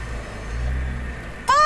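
A Nissan GT-R at a racing venue idles with a low rumbling engine, then revs sharply near the end, the pitch climbing fast and loud, close by.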